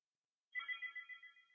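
A telephone ringtone starts after a short silence and repeats in quick regular pulses, fairly clear and alone, heard during a Minecraft let's play.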